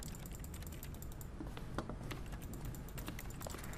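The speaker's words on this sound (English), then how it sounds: "Why is it making keyboard sounds as I move?" Soft keyboard-like tapping clicks from The Stanley Parable play out as the character moves, a steady run of quiet, irregular keystroke ticks over a low background hum.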